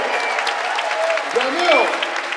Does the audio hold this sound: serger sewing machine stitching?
no